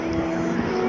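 A Pilatus PC-21 turboprop trainer flies a display at the Avalon Airshow near Melbourne, giving a steady, loud propeller drone with a constant tonal hum throughout the brief moment, no voices.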